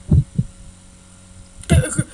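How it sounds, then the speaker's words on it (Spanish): A heartbeat pulses in the game Lucky Dog1 Bad Egg, low thumping beats in pairs, close and clear, with a pause before another double beat under a faint steady hum. "esos latidos de corazón me ponen nerviosa"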